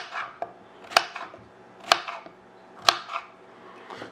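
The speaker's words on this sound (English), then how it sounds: "So now we're going to cut up the zucchini." Zucchini is cut with a knife on a board in three sharp, evenly spaced chops about a second apart, each with a faint lighter tap between them. The sounds are close and alone.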